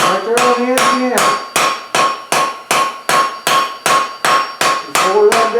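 A hammer strikes hot steel on the edge of an anvil while forging a folded leaf, about a dozen loud ringing blows at a steady, brisk rhythm, each with a bright metallic ring, close up and alone.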